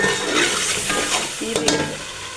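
White chickpeas being fried and stirred into a spiced masala base, a steady close sizzle broken by scraping spoon strokes against the pan near the end.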